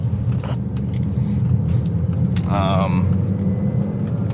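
Inside a BMW X5 diesel on the road, a steady low engine and road rumble fills the cabin, with a brief higher chirp partway through and faint voice sounds mixed in.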